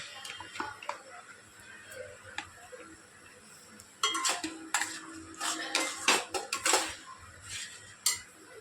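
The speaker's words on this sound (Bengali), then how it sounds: "পালং শাকটা দিয়েও খানিকটা নেড়ে নেব" Boiled spinach is stirred briefly in a pan for palak paneer, making scattered metal spoon scrapes and clinks that grow louder and more frequent toward the end.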